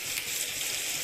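Fish frying in a hot pan, a steady, close hiss of sizzling oil that holds evenly from start to finish with no talk.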